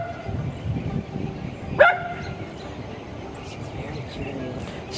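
A dog gives one brief, sharp bark partway through, standing out against a noisy outdoor background with a low, rumbling ambience.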